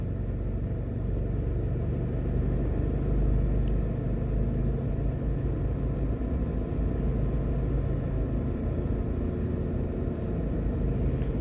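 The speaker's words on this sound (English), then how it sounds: "I thought it was traffic, but it's a garbage truck that" Garbage truck idling on a residential street in Jamaica, a steady low engine rumble that holds constant throughout with passing traffic blended in, no voices.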